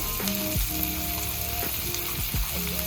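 Steady sizzling of onion stalks frying in a pan, with a few soft stirring scrapes and clinks, fairly close and without speech.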